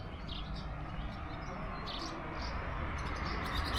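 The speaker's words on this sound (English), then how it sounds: "Birds everywhere as well." Birds chirp and tweet in the Dordogne Valley of southwest France, small high calls scattered over a steady outdoor background with a low rumble, no talking.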